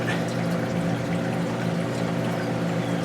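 Water pours steadily and continuously into a reef tank chiller and sump, a dense close splashing rush over the low hum of the pump.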